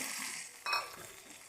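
Peas and spices for a matar kachori filling fry softly in a pan, a faint steady sizzle broken by a brief scrape and clatter of stirring partway through.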